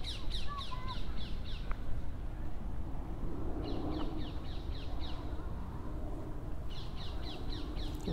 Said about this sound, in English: Winged parakeet, I can hear.